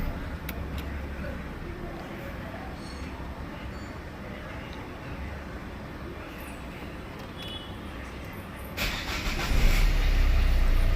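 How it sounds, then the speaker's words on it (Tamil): A Mahindra Verito diesel car with a late-starting fault and a suspected sensor issue turns over and fires up near the end, settling into a loud, close diesel idle after a quieter stretch of background rumble. "வண்டி ஒரே ஸ்டெப்பில் ஸ்டார்ட் ஆகுது."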